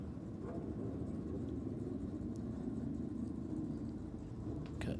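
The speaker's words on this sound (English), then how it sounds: "That's the Panigale as it goes through." A Ducati Panigale motorcycle on a race track passes as a steady, fairly distant engine rumble and whir. It holds under constant background noise, with no sharp peak.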